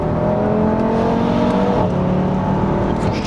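An Audi RS3 in sport mode revs hard as it accelerates after a quick downshift, a loud, close engine note holding a strong, rising drone, with no talking.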